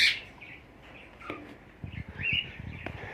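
Parakeets in breeding cages give a few faint, scattered chirps and short calls, with a brighter call at the start and near the end over quiet background noise.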